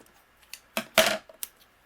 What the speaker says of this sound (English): I'm going to be using our pattern paper, and I'm just going to trim down